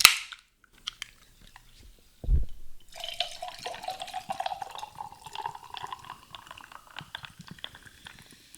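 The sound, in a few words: ice cold sparkling water poured, fizzing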